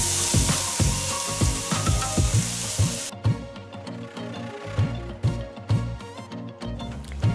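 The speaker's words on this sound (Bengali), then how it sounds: "ওই ঘিয়ের মধ্যেই গাজরটাকে ভেজে দেবেন।" Carrots fry in ghee for carrot halwa, giving a steady close sizzle with rhythmic scraping and stirring strokes throughout.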